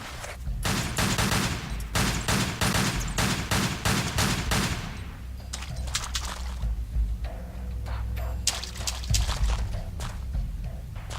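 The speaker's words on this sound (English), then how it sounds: "shoot another bat" Gunfire in the Tomb Raider level editor game while shooting a bat in a dark sewers level: a rapid volley of sharp pistol shots, then a few scattered shots over the game's rumbling ambience.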